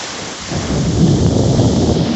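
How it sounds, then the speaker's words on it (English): Thunder crashes and rolls loudly through a September wind storm, a deep sustained rumble that swells after a brief quieter start, mixed with steady rain and wind noise and no voices. "Good crash of lightning."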